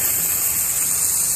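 Water sprays over a cricket ground like rain, a loud, steady hiss of falling droplets that lasts only a moment, with no voices.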